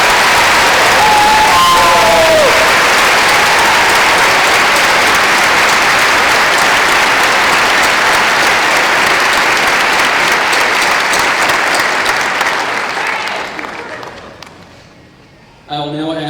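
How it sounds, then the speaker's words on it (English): Loud, sustained applause from a large crowd at a university hooding ceremony, a dense steady clatter of clapping that fades out near the end. "Ladies and gentlemen, please join me in applauding these fine young men and women."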